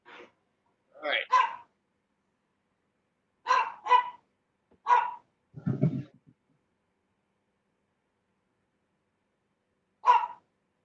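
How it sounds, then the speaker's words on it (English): A dog in a house lets out a few sharp, scattered barks, some in quick pairs, with long quiet gaps between them and one last bark after a long silence. "That was Angie's dog joining in, I think."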